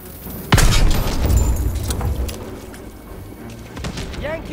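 A loud grenade blast in Call of Duty WWII erupts with a heavy boom and rumbling aftermath, followed by lingering battlefield noise and a second thud near the end.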